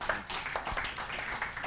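A small group of people claps at a commercial real estate event, a thin, brief patter of separate hand claps at moderate distance, with no talking over it.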